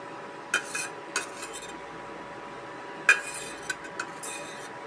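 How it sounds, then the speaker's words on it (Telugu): A spoon scrapes and clinks against a pan while ivy gourd (dondakaya) masala curry is stirred, a few sharp metallic taps at irregular intervals over a quiet background, with no talking. "అంతా బాగా కలిసేంత వరకు ఇలా కలుపుకోవాలండి"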